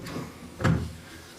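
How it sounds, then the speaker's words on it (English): A door swung shut in an apartment in Ikebukuro: one soft thud near the middle of a short, otherwise quiet moment. "So let's turn that off and close the door."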